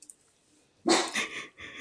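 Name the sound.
dog barking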